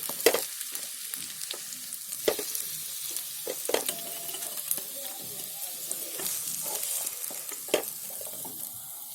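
Onions frying crisp in oil for Hyderabadi-style chicken biryani crackle and hiss close up, broken by frequent spatula clinks and scraping stirs against the pan.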